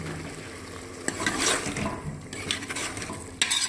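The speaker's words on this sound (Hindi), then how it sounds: "अब मैं इसको भूनती जाऊंगी।" Tomatoes fry in about half a cup of oil for egg keema, giving a steady close sizzle broken by a few scraping clicks of a spoon stirring against the pan.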